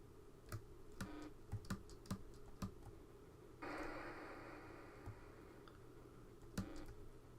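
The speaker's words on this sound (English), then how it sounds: "This keyboard feels nice." Quiet, irregular clacking of keys on a Spectrum Next computer keyboard during gameplay, scattered single presses with a short burst of game noise in the middle.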